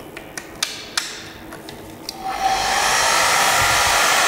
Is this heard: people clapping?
no